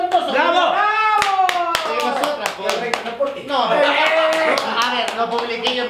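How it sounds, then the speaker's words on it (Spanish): People clap along with lively talk and cheering, a few sharp hand claps standing out over continuous voices throughout. "¡Un aplauso entonces!"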